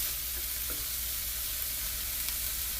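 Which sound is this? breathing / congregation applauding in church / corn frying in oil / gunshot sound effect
corn frying in oil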